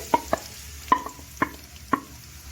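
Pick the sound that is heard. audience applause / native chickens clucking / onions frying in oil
onions frying in oil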